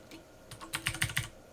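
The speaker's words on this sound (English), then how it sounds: "Typing words." Fingers tap quickly on a computer keyboard nearby, a short burst of about half a dozen crisp clicks with no voices.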